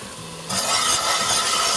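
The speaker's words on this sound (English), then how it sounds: "We're going to brown the meat down a little bit. I'm also adding some garlic" Ground meat and garlic browning in a pot for New Orleans red beans and rice: a sudden loud, steady sizzle starting after a brief quieter moment, with faint scraping of stirring, close and continuous.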